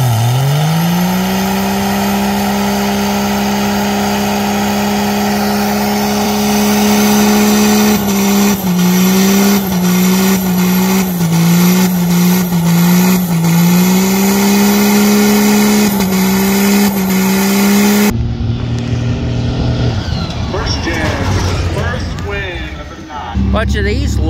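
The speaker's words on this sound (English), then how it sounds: "Bunch of these loser trucks." Diesel trucks rev their engines at a truck meet, a loud sustained roar with repeated rising and falling revs that cuts off abruptly into a noisier, more chaotic stretch near the end.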